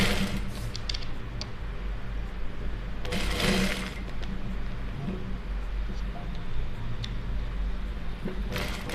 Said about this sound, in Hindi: सिलाई मारना है।